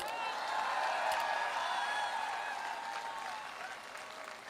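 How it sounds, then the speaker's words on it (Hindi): A large crowd at a motivational seminar in Agra breaks into sustained, dense applause, steady and loud throughout, with some cheering voices rising through it before a gradual slight fade. "तालियां ऐसी बजा दो कि ताजमहल हिलना चाहिए।"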